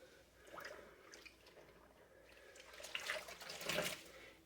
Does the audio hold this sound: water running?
yes